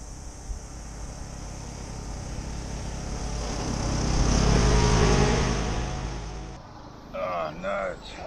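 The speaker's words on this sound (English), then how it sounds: "Somebody coming up the drive." A car approaches up a driveway, its engine swelling gradually from faint to a broad, close rumble before cutting off; a voice speaks briefly at the end.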